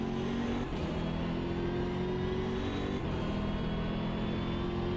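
A BMW M6 GT3 race car engine in a racing game drones steadily and loudly, its pitch rising and falling slightly as the car brakes and turns on a hilly track.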